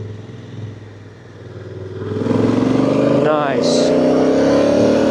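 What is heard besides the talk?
Honda Africa Twin CRF1000 DCT motorcycle riding on narrow country road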